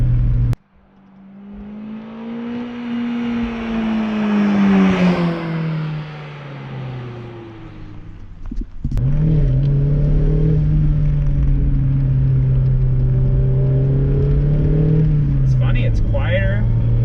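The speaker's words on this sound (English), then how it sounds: "It's quieter on idle, but louder on throttle than the stock NB." A Mazda MX-5 ND four-cylinder engine revs on throttle, rising in pitch and falling off, then pulling again with a steady loud drone from inside the car, with speech over it.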